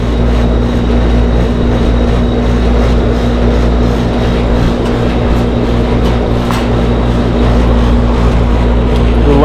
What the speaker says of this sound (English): This compressor is overamping.